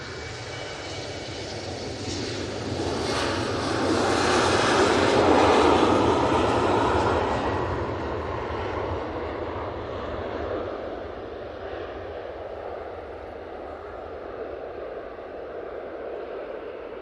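A Dash 8 turboprop on final approach to Manchester Airport swells from a distant drone to a loud pass near the middle, then fades steadily as it moves away.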